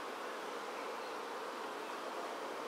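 A dense, steady drone of many honeybees buzzing close by around a hive, an even humming swarm with no other sounds.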